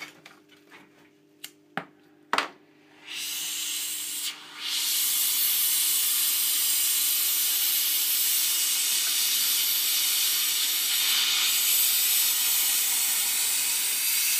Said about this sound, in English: See the silver melting?